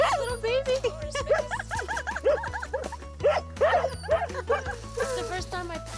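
Sled dogs bark and yip at a dog-sledding kennel, with excited overlapping yelps and whines repeating throughout alongside people's speech.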